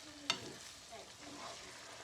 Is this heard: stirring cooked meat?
yes